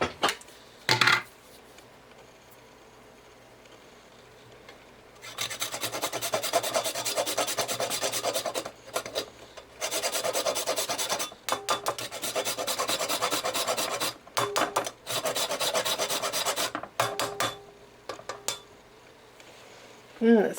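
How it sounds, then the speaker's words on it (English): Whole nutmeg rasped on a microplane, with repeated close scraping strokes in bursts separated by short pauses, clear and fairly loud with no talking. "I'm going to grate that in there with the microplane"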